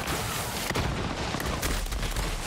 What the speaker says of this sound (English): Two enemies with launchers with a high speed triple shot, and one of them also throws grenades.